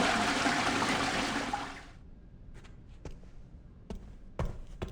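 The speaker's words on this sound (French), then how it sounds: "j'avais activé une chasse d'eau" A toilet flushes in the horror video game Resident Evil Requiem, a quiet rushing gush that drains away after about two seconds, followed by a few faint knocks and clicks.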